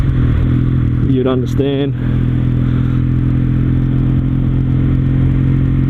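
A Kawasaki W800 cafe racer motorcycle fitted with an aftermarket exhaust cruises at about 60 km/h and 3000 rpm, its engine a steady, close droning hum. A voice speaks briefly near the start.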